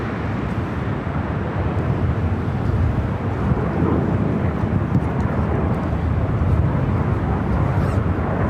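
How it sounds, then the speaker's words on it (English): Boeing 767 jet climbing away on departure into fog at an airport, a broad continuous engine roar that stays steady and loud without fading, heard alone. "as the 767 disappears into the fog"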